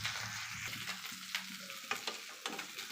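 A veg sandwich toasting in a pan on the stove, with a continuous sizzle of frying and intermittent scraping and tapping of a utensil, close and moderately loud.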